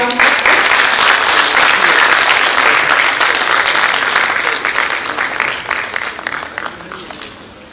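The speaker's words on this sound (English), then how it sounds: "please welcome him with a huge round of applause" Conference audience at the Indian Steel Conference applauding a guest, a dense, sustained round of clapping from a large gathering that holds steady before gradually thinning out toward the end.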